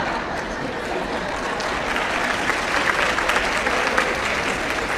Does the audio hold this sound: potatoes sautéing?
no